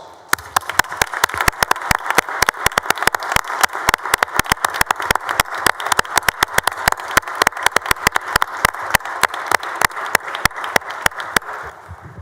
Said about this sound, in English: I'd like to give everybody here with CASA a big round of applause.